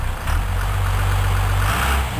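A vehicle engine idling steadily after a cold start on a frosty morning around minus 15, a loud, close low rumble with a slight rise partway through and no talk.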